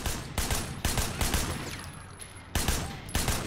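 Rapid gunfire in the Sleeping Dogs video game, repeated loud bursts of shots in quick succession over a few seconds, close and punchy, with brief gaps between volleys.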